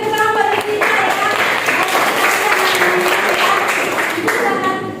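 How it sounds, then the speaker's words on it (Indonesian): A classroom of students claps steadily for a classmate, a dense, loud round of applause lasting the whole stretch with a voice rising faintly over it near the start and end. "Oke, tepuk tangan buat Yustika ya."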